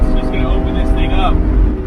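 A 2021 Lamborghini Aventador SVJ Roadster engine roars loudly and steadily up close, pitch climbing as it accelerates hard.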